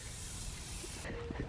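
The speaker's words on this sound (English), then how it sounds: "Just spray paint over it" Spray paint hisses steadily from an aerosol can for about a second outdoors, then cuts off, leaving faint background sounds.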